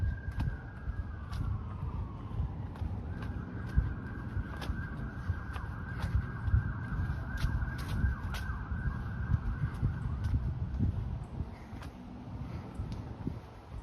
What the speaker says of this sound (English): I can hear the sound of an emergency vehicle, a siren